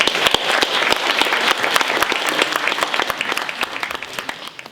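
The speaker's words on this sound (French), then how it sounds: "Vous pouvez l'applaudir, ça." An assembly audience at a bird-protection association's annual general meeting claps together, a close, lively burst of many hands with some sharp individual claps standing out, thinning slightly toward the end.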